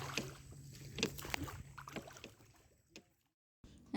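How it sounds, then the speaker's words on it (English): Oars of a rowing boat dipping and splashing in the quiet water of the Pichavaram mangrove forest: soft irregular strokes close by, faint overall, ending in a brief silence before another stroke. "barring the sounds of the oars of your boat"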